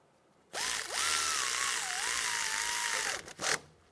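A power tool whirs up and holds a steady rising-and-falling whine for a few seconds while snugging a bolt on a 2004-2009 Toyota Prius wheel hub assembly, then stops with a couple of short bursts; loud and close.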